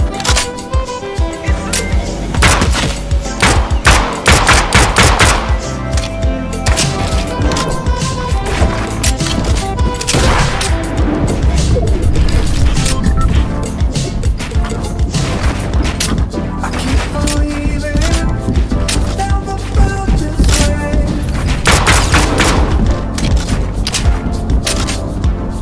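Rapid pistol gunfire from a combat pistol in a shooter video game crackles in dense repeated bursts throughout, loud and continuous over layered game sound effects.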